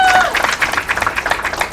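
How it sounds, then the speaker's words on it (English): A crowd at a San Francisco District 10 candidate forum gives brief, scattered applause after a candidate's remarks, a short burst of claps. "Let's hold the applause until the end of the debate, please."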